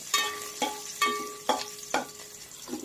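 Curry leaves crackle and fry in hot oil for a poha chivda, with about six regular scraping stirs of a spatula in the pan over a continuous sizzle, close and fairly loud.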